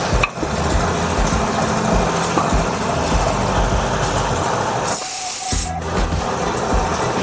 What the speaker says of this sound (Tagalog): Palalabasin natin to gamit ang air compressor.